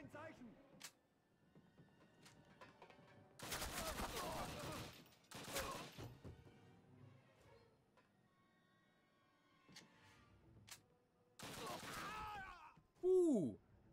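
Gunfire from a Call of Duty mission to sabotage the Tirpitz arrives as several loud, dense bursts separated by quieter gaps, with someone talking in between.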